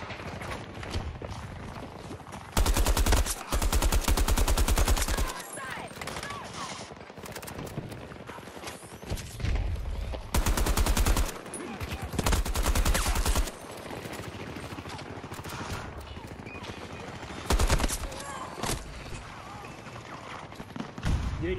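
Automatic AK-5C rifle fire in the Battlefield 2042 shooter game, heard as several loud sustained bursts of a few seconds each, separated by quieter stretches of game sound.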